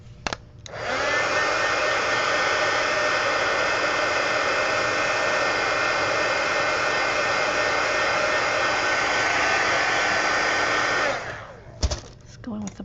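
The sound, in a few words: heat tool drying paint on planner insert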